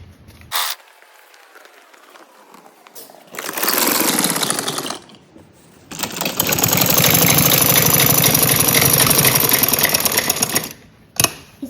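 A sewing machine stitches a frock-style kurti, running in two bursts: a short rattling run of about two seconds, then a longer steady stitching run of about five seconds, close and fairly loud, with brief handling clicks between.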